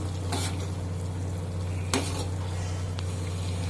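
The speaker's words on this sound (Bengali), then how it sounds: "চায়ের জল একদম টক পকিয়ে ফুটছে" A pot of tea water on the stove gives a steady low bubbling hiss, broken by a few sharp scraping and clinking touches of a spoon as sugar goes in.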